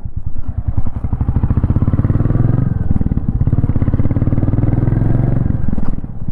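Exhaust of a Royal Enfield Goan Classic 350 while riding, a deep rapid thumping pulse, loud and close, dipping briefly as the throttle eases then picking back up, no voices.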